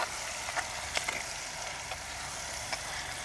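Onion and chili paste frying in oil, a steady moderate hiss with a few faint scrapes of a spoon, continuous and close without any voices.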